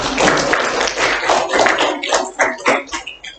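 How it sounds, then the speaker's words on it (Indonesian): A classroom bursts into applause for a presenting student group, dense clapping from many hands that thins into scattered, separate claps toward the end. "kita beri aplaus untuk kelompok"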